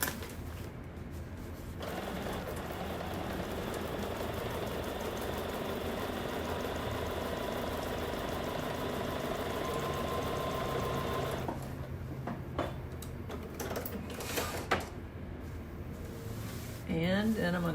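A sewing machine stitches across a quick quilt-as-you-go snowman tabletopper, a steady fast mechanical whir and needle patter running continuously, then breaking into a few stops and restarts near the end.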